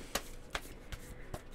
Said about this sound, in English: really having to shuffle these and clear these a lot